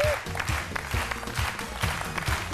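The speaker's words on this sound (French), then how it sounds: "Je vous demande d'applaudir très fort Monsieur Yachi Kaba" Studio audience applauding on a midday Ivorian TV show as an Aikido master from Japan is welcomed, steady clapping of a moderate crowd with rhythmic beats underneath, sustained throughout.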